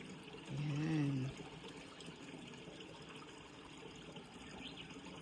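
Steady water trickles and pours in a rain-soaked garden in rural Japan, a soft continuous wash heard close by, with a brief low hum about a second in.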